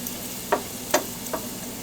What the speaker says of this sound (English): That noise you hear is the spoon